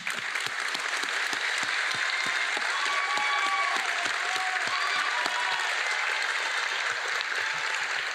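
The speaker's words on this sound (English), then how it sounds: "Please give a round of applause." An audience at a medical school convocation claps in sustained, even applause, many hands close and continuous from start to finish, with a faint voice briefly audible in the middle.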